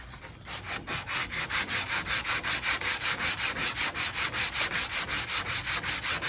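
Block sanding a fiberglass car part, a rapid rhythmic back-and-forth rasp repeating steadily about four strokes per second, loud and close with no voices.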